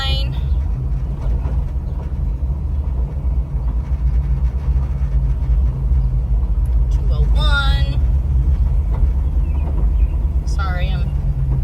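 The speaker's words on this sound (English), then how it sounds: "Sorry, I'm driving, so it's a little bumpy." Steady low road rumble from a car carrying a 392 HEMI engine, heard from inside while driving over a bumpy road; a constant drone runs throughout, with a voice talking briefly over it.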